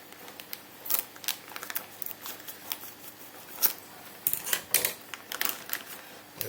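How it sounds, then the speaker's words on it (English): A knife roughly chops homegrown pickles on a cutting board, with a series of close, sharp, irregular clicks and taps that come in uneven bursts with short pauses between them. "I'll just chop these up very roughly."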